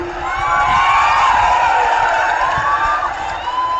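Large outdoor political rally crowd cheering and shouting, a loud sustained roar of many voices with whoops rising over it throughout.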